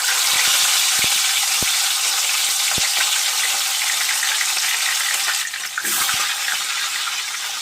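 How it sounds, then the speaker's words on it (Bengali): Pomfret fish fry in hot oil in a kadai for a mustard pomfret dish, giving a loud, dense, continuous sizzle with a few sharp crackles and pops near the start. "তো এবার আমি মাছটা ভেজে নেব।"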